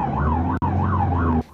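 An ambulance siren wails in a steady, loud, rising-and-falling electronic tone, close by, broken by a brief cut partway through and stopping abruptly near the end, with no talk.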